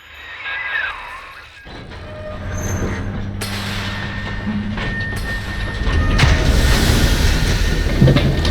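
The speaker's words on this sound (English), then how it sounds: "Take the train to Ryan Amusements." A train ride in the video game Bioshock 2, where a rumbling rail car builds in loudness with squealing wheels and clanks, growing heavier and louder toward the end, with no talk over it.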